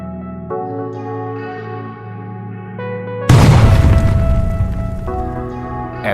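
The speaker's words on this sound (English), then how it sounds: "At the moment of the explosion, one piece of the ball flew far away." A huge propane-filled balloon explodes outdoors with a sudden loud boom that breaks in over a ringing tonal background, followed by a long roaring decay.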